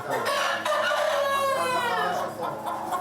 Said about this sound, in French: C'est comme ça que nous obtenons des poulets sans plumes.